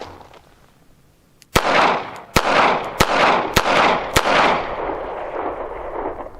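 Five sharp .38 Special revolver shots from a Smith & Wesson M&P Bodyguard, fired at a target at 7 yards, spaced under a second apart, each loud crack trailing into reverberant outdoor noise.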